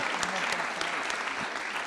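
Steady applause from a crowd at an award ceremony fills the whole moment, dense clapping at an even level with no pauses.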